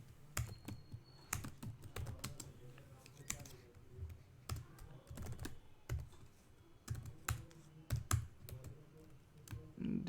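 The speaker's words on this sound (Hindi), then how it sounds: "सॉरी मेरा टाइपिंग उतना फास्ट नहीं है तो थोड़ा सा टाइम लग रहा है।" Someone types on a computer keyboard while entering Python code, producing uneven bursts of crisp key clicks with short pauses between words, close and moderately quiet.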